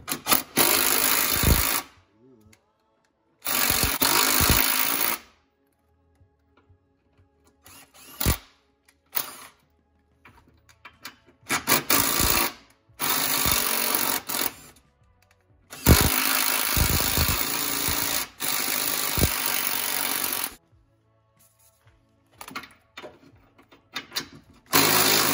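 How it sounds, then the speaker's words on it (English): Impact driver chasing threads in bolt holes while fitting a remote oil filter on a turbo LS caravan: several loud bursts of rattling hammering whine, each lasting one to four seconds, separated by quiet gaps and light handling noises. "And by thread chaser, I mean ramming in with an impact."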